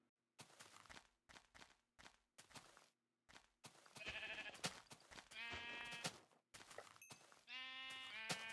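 Sheep bleating in a video game, several wavering bleats following a run of short tapping footsteps, close and fairly clear with no talk.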